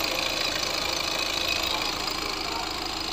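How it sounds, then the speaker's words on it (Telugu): A car engine running during a decarbonization treatment, a loud, steady, close-up drone with a rough knocking texture and no voices over it. "ఇంజన్ నాయిస్ కూడా మీరైతే క్లియర్గా వినొచ్చు"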